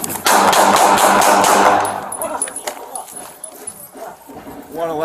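Police open fire during a traffic stop, and a rapid burst of loud, sharp gunshots cracks out in a tight string. Shouting voices and scattered noise follow after the volley ends.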